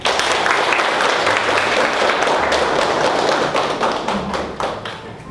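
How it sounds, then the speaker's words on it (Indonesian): Classroom applause for group 3 after a project presentation, a short burst of hand clapping from a group of students, loud at first and tapering off toward the end. "Aplaus untuk kelompok 3 dan untuk kita semua."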